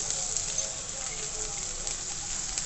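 Finely chopped onions sauté in a pan for a Tamil-style potato and pea masala, giving an even, continuous sizzling hiss with small crackles throughout.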